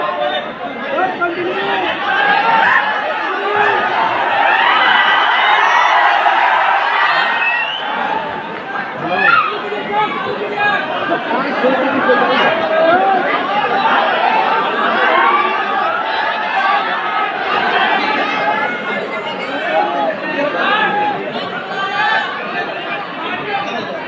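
A large, dense crowd chatters and murmurs continuously at a grand public welcome for Khan Sir in Motihari, voices overlapping at close range with occasional laughter and shouts.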